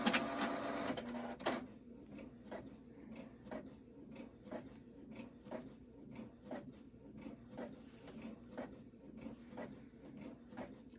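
A home printer printing a doll clothes pattern, starting with a brief loud whir, then a long run of regular mechanical clicks and shuffles at a steady pace, close by and fairly quiet.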